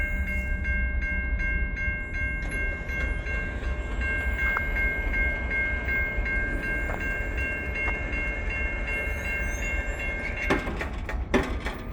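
CN eastbound tanker train passing a pedestrian crossing at night, a steady nearby rumble with sustained high ringing tones like crossing bells, and sharper metallic clanks near the end.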